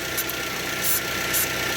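Toyota Avanza engine idling with its idle speed control working on a cold start, a quiet steady mechanical hum with faint periodic hiss, no talking.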